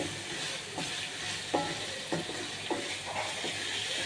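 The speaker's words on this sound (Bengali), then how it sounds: "সব কিছু দিয়ে এখন ভালো করে কষিয়ে নিচ্ছি" Eggs sautéed for bhuna with meat masala, cardamom, cinnamon, bay leaf, ginger and garlic, giving a steady sizzle with several distinct stirring scrapes at intervals, close up.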